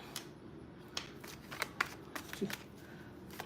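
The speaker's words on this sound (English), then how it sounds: "Why they got me shuffling slow for you, Libra?" Tarot cards being shuffled slowly by hand, a run of light riffling snaps and flicks spread unevenly across several seconds, close up and fairly quiet.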